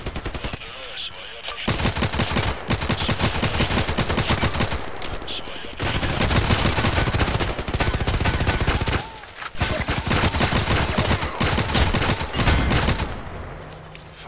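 Gunfire in the online shooter Contract Wars comes as long, loud, rapid bursts of shots that nearly fill the stretch, broken by a few short pauses.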